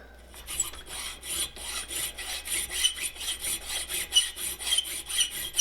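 A file rasps across wooden frontpiece dovetails in steady, even back-and-forth strokes, about three per second, close and clear with nothing else heard.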